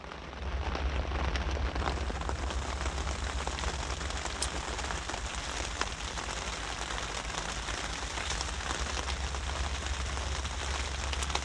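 Rain patters steadily and densely on a leaky tent, a close, even hiss of drops with occasional louder taps and no voices.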